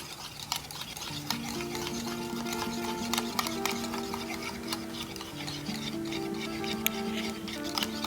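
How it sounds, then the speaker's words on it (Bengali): Eggs for a soufflé, seasoned with chilli powder, are beaten with a hand blender, a steady whirring hum running the whole time with faint rattling ticks over it, close and fairly quiet, with no talk. "এভাবে আমি দুটোই 10 মিনিট করে ফেটিয়ে নেব"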